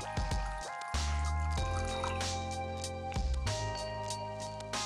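Water pours into a container, a steady trickle and gurgle with rising tone as it fills, close and fairly quiet, interrupted briefly by a couple of louder handling knocks.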